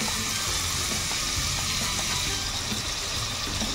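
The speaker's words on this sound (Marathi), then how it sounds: "आता आपण याच्यामध्ये आपण जो बारीक केलेला कांदा आहे तो आधी घालून घेणार आहोत" Finely chopped onion hits hot oil in a kadai for a Konkani-style dried prawn masala, giving a loud, steady, hissing sizzle that fills the whole clip with no speech.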